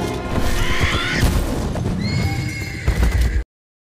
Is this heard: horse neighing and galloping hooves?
yes